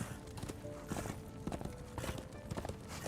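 Horse hooves clip-clop steadily as a mount is ridden through a green hollow in Darksiders 2, a rhythmic trotting beat with close, repeated hoof strikes over game ambience.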